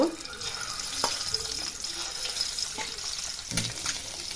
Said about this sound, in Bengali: এবার তেল গরম হয়ে গেছে, ওর মধ্যে দিয়ে দিব